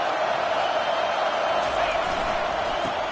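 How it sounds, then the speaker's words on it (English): A stadium crowd at a night football game roars behind the defense during a red-zone stand, a dense steady wash of cheering that holds loud and even throughout. "The crowd getting behind this defense as they try to get a stop in the red zone."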